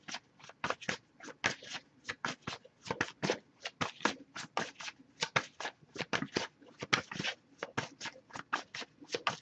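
Rapid, crisp flicks of tarot cards being shuffled, dozens of quick riffling snaps in an uneven rhythm, close and fairly loud with no talking.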